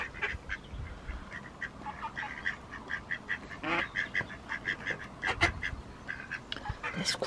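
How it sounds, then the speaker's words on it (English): Ducks gathered on a pallet by a narrowboat canal quack and squabble in rapid, overlapping bursts, with a busy, continuous chatter of nearby calls and a few louder squawks. "Duck drama."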